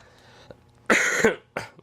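A person sick with flu and a cold coughs close by, a couple of harsh, rasping bursts in quick succession after a small throaty catch, with quiet in between.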